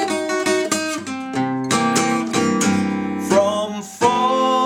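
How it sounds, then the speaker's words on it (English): Acoustic guitar playing a blues lead-in lick, a run of single plucked notes and ringing chord strums in a steady, close, clear phrase with no voice. "So leading into that lick, which we discussed before this, will sound like this."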